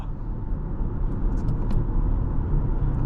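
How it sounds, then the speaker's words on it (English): A 2022 Toyota Highlander XSE accelerating gently on an evening drive, heard from inside as a steady, smooth low engine hum and road rumble, moderately loud and unbroken, with no one talking. "I mean, it's a very tame acceleration"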